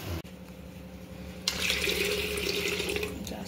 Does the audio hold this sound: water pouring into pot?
yes